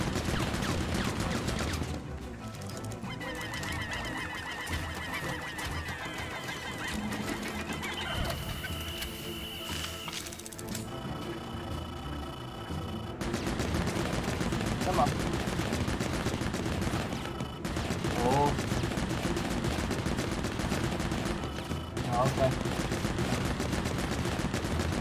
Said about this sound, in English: Oh, he's still shooting.